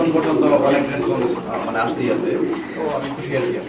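Danish and fantail pigeons coo in low, rolling murmurs that run continuously under a busy background, with several birds overlapping close by.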